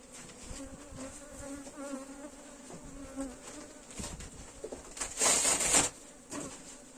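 Honeybees buzz at an open hive with a steady, close drone, and a louder, higher burst of buzzing swells near the end, with no speech.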